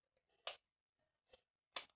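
Scissors snipping paper while making a Christmas wreath, three crisp, close cuts spaced unevenly over two seconds, with quiet rustling between them.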